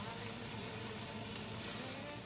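Onions caramelizing in coconut oil over high heat give off a dense, continuous sizzle that holds level throughout, close and steady, with no voices over it.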